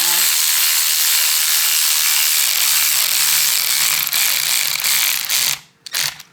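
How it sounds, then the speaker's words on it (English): Ratchet tightening a stock M6 bolt onto an ASA plastic map sensor adaptor, Gen4 map to 1/8 inch fitting, giving a run of close, steady clicking strokes before stopping near the end. "Let's show you guys how this bolts"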